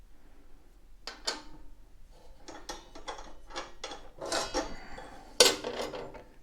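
A nut comes off the blade arbor of a Skilsaw 10-inch table saw, model 3400, with a run of close metallic clicks, ratcheting turns and scrapes that grow busier toward the end. Nobody talks.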